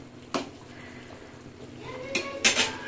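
A spoon scrapes and knocks against a cooking pot in a couple of sharp metallic clatters, with a soft background hiss between the strokes.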